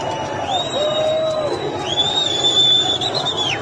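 A large crowd at a street protest in Iran cheers and whistles outdoors, with sustained shrill whistles rising over a dense roar of voices throughout.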